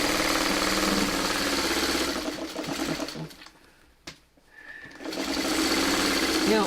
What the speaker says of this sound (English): So I get to my next matching up spot and I just sew along.